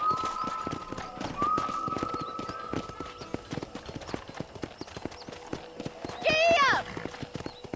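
Steady rhythmic hoofbeats of a galloping horse in Red Dead Redemption run throughout, with a short whinny near the end and some faint talk mixed in.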